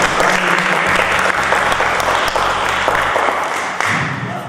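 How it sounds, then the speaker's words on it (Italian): An audience applauds an actress and singer-songwriter on a stage interview show, a dense burst of clapping at close range that holds steady and fades slightly near the end. "applauso"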